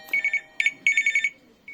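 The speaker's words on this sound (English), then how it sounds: "Press the bell." ICSee OS687FA double-sided camera smart lock doorbell chime, a loud, close electronic melody of repeated bright beeping tones in several bursts.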